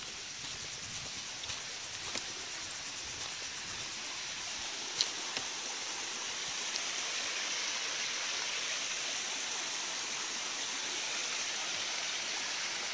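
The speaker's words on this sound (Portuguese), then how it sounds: "Uma das quedas d'água aqui da Cachoeira do Mendanha, né?" A waterfall at Cachoeira do Mendanha in Parque do Mendanha, Bangu, roars as a dense, even wash of falling water that holds steady throughout, with a few faint ticks and no voices.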